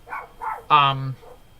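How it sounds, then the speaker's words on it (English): A dog barks a few times in short, close yips and one longer, tonal bark, heard over background music. "That's the dog."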